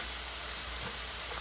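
Steak and vegetables fry in a skillet, giving a steady, even hiss of sizzling that holds constant throughout without pause.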